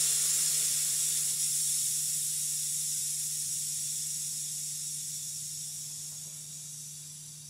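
Compressed air hisses steadily from an AIRGO tire inflation system as it is depressurized at the hub, a loud continuous rush that slowly fades over several seconds under a low steady hum.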